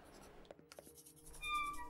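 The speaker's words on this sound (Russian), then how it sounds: "Перо зловеще висит в воздухе, царапая буквы на старой бумаге." A quill pen scratches faintly across old paper in the Pocket Mirror video game, with short soft scrapes and a few ticks, joined toward the end by a thin, sustained musical tone.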